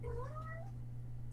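A house cat gives one rising, drawn-out meow near the start, fairly close, over a steady low electrical hum. No one speaks.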